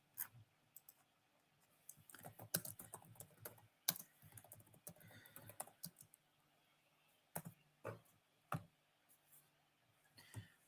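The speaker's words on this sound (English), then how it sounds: "Let me just type in Ted Turner Doomsday" Fingers type on a computer keyboard in quick, uneven bursts of close clicking keystrokes with short pauses between runs, heard alone with no talking.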